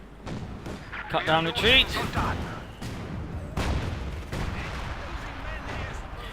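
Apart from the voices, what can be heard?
heavy gunfire in Company of Heroes 2 video game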